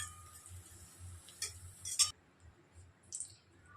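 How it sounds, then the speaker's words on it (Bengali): Fried potatoes lifted from a pan onto a plate in a home kitchen, heard as a few light utensil clinks and soft taps over a low background hum, with no talking. "এবার আমি আলুগুলো একটা থালায় তুলে রেখে দিচ্ছি।"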